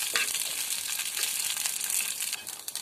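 Whole spices spluttering in a hot pan for a coconut-roasted mutton curry make dense, bright crackling and popping, close and fairly loud, without pause.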